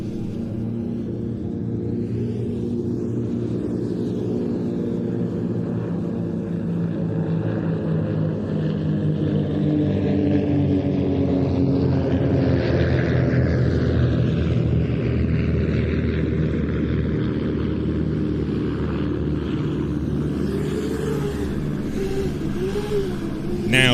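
Raven aerobatic team aircraft sweep past together in delta formation at an airshow in Leszno, a loud sustained propeller engine drone whose pitch rises and falls as they approach and pass, with brief engine revving.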